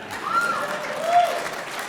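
An audience applauds at a broadcasting hall of fame show, steady crowd clapping throughout under a speaking voice.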